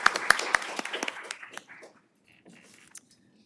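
Brief, scattered clapping from a conference audience, a few sharp claps at first that thin out within two seconds, leaving a quiet room.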